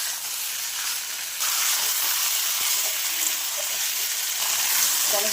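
A tomato and spice masala for a chicken dish sautés in a pan, a steady loud sizzle and hiss that rises partway through and continues with faint stirring clicks, with no talking.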